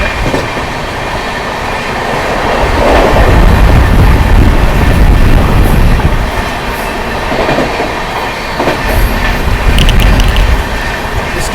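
Sampoorna Kranti Express rushing through Sirathu station at speed, a continuous loud rumble of wheels on track with rhythmic clickety-clack over joints and occasional squeals, no talking.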